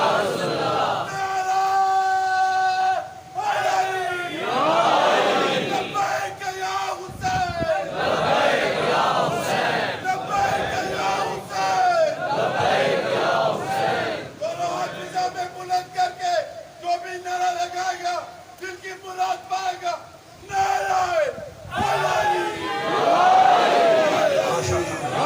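A congregation at a Shia majlis in an imambargah recites aloud together, with a loud, sustained mass of voices in unison and some raised shouts, continuing throughout with brief dips.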